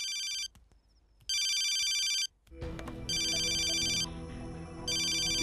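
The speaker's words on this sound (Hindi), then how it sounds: "किसका फोन है प्रिया?" A loud electronic phone ringtone plays in repeated bursts with short gaps, then continues over a sudden burst of background music and noise.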